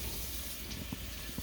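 Filtered water runs into a saucepan for elderberry syrup, a steady close rushing pour with faint splashes.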